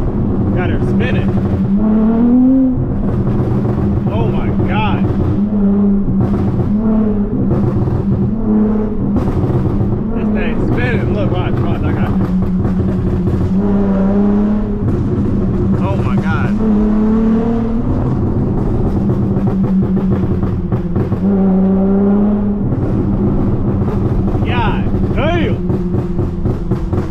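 Dodge Charger V6 with a loud burble exhaust revving and pulling hard on the street, rising engine tones repeating through the run under steady cabin noise, with people talking over it throughout.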